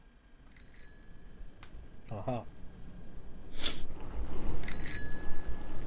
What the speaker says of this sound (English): I have a bell.